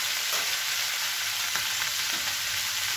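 Vegetables with salt and turmeric for a Bengali niramish chorchhori sizzle steadily in a frying pan, a dense continuous frying hiss with a few soft scrapes of stirring.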